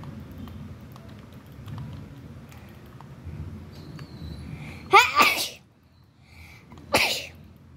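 A sudden, loud sneeze bursts out during a Minecraft Hive Skywars session, followed by a second, shorter sneeze about two seconds later over quiet background noise.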